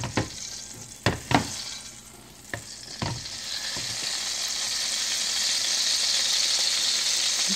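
Butter with a little olive oil melts and foams in a frying pan, a few sharp utensil knocks and stirs giving way to a steady sizzle that grows louder and denser.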